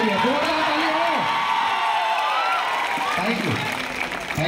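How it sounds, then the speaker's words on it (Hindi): A large outdoor crowd in Bhagalpur, Bihar claps and cheers loudly at a public event, a dense continuous roar of applause with whoops and voices mixed in throughout. "ये लग नहीं रहा भागलपुर की ताली है, जोरदार ताली हो"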